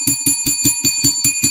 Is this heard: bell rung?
yes